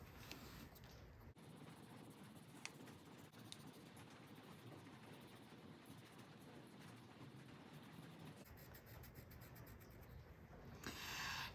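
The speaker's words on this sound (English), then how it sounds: "I'm gonna use my pencil to trace over all of the lines in this new section to darken those up" A pencil is traced over drawn lines on paper to darken them, giving a soft, continuous scratchy rubbing that runs steadily and close up with no talking.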